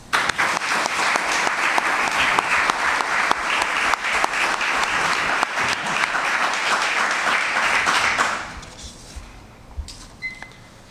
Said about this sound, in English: as we give a round of applause for our candidates